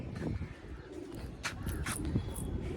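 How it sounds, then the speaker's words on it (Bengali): Domestic pigeons of fancy breeds such as Chini Kaldum, Saharanpuri and Kalshila give soft, low cooing at moderate distance in a quiet loft, with faint chirps mixed in. "পায়রাগুলো দেখিয়ে দিই।"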